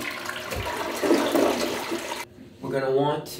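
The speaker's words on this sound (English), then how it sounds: "And now we're gonna flush." A household toilet flushes during a bidet installation, a loud rushing swirl of water followed by a cut and the tank refilling, with someone talking over the start.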